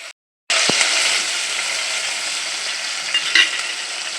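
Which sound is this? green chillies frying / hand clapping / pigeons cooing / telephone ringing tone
green chillies frying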